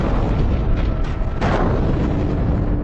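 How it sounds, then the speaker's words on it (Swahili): A crashing plane explodes with a loud, sustained, roaring blast that fills the whole stretch, with a sharper burst partway through and no let-up afterward. "ndege hiyo ilianguka na kulipuka"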